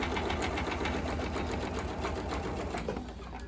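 A sewing machine stitches steadily through thick heat-insulated placemat fabric, running as a fast, even mechanical whir close to the microphone with no talk over it.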